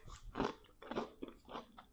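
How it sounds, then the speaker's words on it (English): Crisp bites and crunches into a raw cucumber sound right up close, four quick crackly chomps spaced about half a second apart, with no talking. "Fortunately, I have something that will help to tone down this discussion a bit. It is a cucumber."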